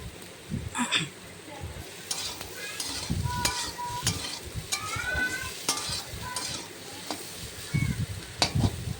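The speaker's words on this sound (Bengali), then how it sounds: "নাড়াচাড়া করে আস্তে আস্তে ভেজে নেব অল্প অল্প আঁচ দিয়ে" Egg and soybean fry in a pan over low heat while a utensil scrapes and stirs, giving soft sizzling under irregular clinks and scrapes of metal against the pan, with some high squeaks here and there.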